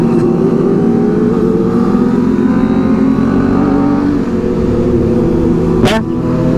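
A big motorcycle speeds past through night traffic on Sudirman in Jakarta, its close, loud engine droning with steady rising harmonics and a brief sharp burst near the end.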